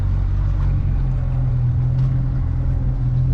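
A Yamaha F50 outboard motor on a 2023 Smokercraft 15 Resorter boat, shifted into gear, gives a steady, close, droning engine hum with strong low rumble and no break, alone with no talk.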